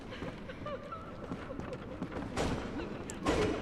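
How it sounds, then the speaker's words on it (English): Cannon blasts in the video game Bloodborne, a couple of sharp booming shots near the end amid busy in-game combat noise. "Should we try our cannon with our slightly improved blood tinge and upgrades on one of these poor little fellas?"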